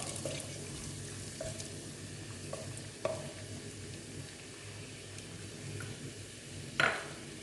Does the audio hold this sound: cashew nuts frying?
yes